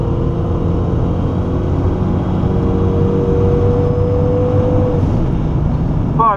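A car launching off the line at a track day, its torque converter not grabbing, gives a loud, steady engine drone with a rising tone that holds for several seconds before fading.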